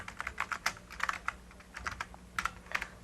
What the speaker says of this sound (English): And so I type in the name I want to save it under.